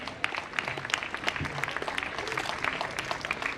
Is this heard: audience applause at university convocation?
yes